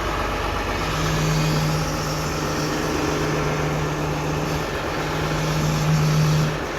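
A 12-valve diesel swapped into a truck runs steadily after starting, a low mid-pitched rumble with a faint steady whine and small swells in level, fairly close, no voices.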